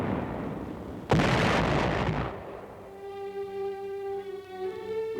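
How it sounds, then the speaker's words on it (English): Heavy artillery barrages on the 1944 Anzio beachhead roar in a loud, sustained burst of explosive rumble, then fade into a lower, steadier din with a tonal drone beneath. "holding the 100 square miles of beachhead area with innumerable small infantry fights, and tremendous artillery barrages"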